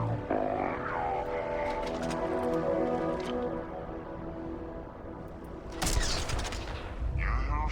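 Gunfire in a sandbox video game, dense overlapping shots and bursts running throughout at steady loudness, with a sharper louder volley near the end and faint voices mixed in.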